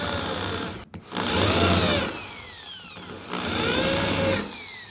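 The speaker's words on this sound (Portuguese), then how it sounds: "Tem que furar e olhar." A power drill bores into a rustic wooden drawer pull in two sustained whining runs separated by a brief pause, loud and close in a woodworking shop.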